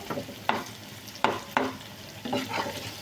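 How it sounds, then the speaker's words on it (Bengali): Chopped garlic and onion fry crisp in a generous amount of hot oil, a steady sizzle broken by several sharp stirring scrapes and bursts of crackle, close and fairly quiet with no voices. "এবার রসুন আর পেঁয়াজ কুচিটাকে একদম মুচমুচা করে ভেজে নেব।"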